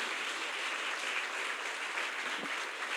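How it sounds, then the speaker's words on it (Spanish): A congregation applauds the church logistics team in a steady, dense wash of clapping from a large crowd that holds evenly throughout with no talk over it. "Vamos a darles un mega aplauso a los de logística"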